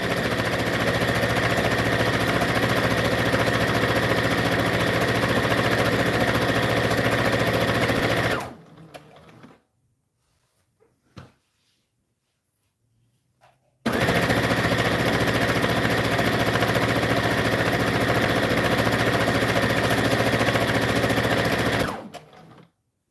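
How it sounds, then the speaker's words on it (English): A sewing machine stitching satin ribbon anklets runs in long, loud, steady mechanical rattling stretches, stops for a few seconds of near silence broken by small clicks, then runs again before stopping. "And we're going to sew all the way down."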